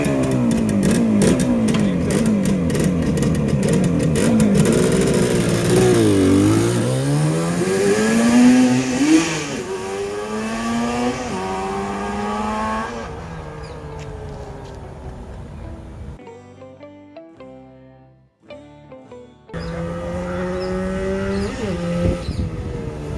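A Yamaha RD350 two-stroke motorcycle is revved hard at full open throttle, its engine note climbing and falling in loud, sustained sweeps; it drops to a brief lull near the end before the revving resumes, with no talking.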